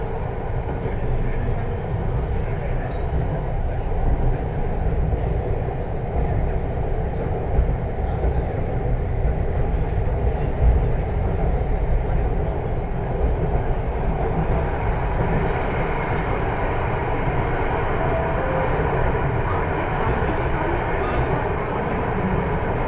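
Inside a Mira-Bhayandar Metro Line 9 train in motion, a loud continuous low rumble and rolling rail roar persists steadily, with murmured voices faintly underneath.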